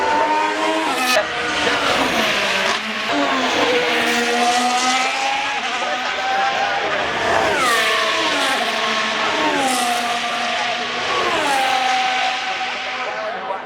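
Formula 1 car at the Australian Grand Prix screaming through a turn at trackside, its loud high engine note climbing and dropping through sharp gear changes as it brakes and accelerates, with other engines whining in the background.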